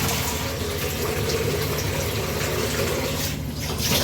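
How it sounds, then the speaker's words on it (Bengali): A pressure cooker being washed under a running kitchen tap, with a steady, close rush of water splashing continuously throughout. "মাংস ধোয়া শেষ, প্রেসার কুকারটা ধুয়ে নিই।"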